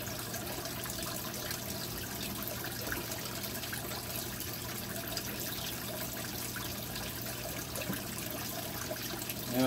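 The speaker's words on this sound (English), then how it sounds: "I'm just going to get on with doing this water change." Water being siphoned from a brackish aquarium during a water change, a steady continuous trickle and gurgle running close by without pause, with a low steady hum beneath it and no voices.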